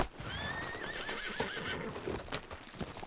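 A horse in Red Dead Redemption 2 gives a clear, wavering neigh over the steady clip-clop of hooves and ambient outdoor game sound, moderately close.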